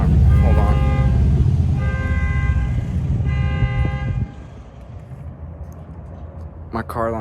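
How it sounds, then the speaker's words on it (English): A car alarm blares in repeated tonal bursts, loud and close, with alternating pulsing patterns that start, pause and return before fading into street noise, while someone talks over it. "Guy just set off my car alarm."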